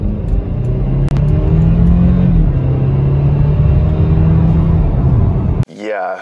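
A 2013 BMW F30 328i xDrive turbocharged four-cylinder engine runs with a steady low rumble and a slight rise in pitch, heard up close and loud before cutting off abruptly near the end.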